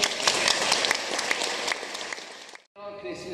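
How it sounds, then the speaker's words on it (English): Applause fills a church on Easter Day as the congregation claps for the choir and music team, a dense, steady patter of many hands that fades out near the end, followed by a brief quieter tail with a voice. "To our music team, can we give them a big round of applause?"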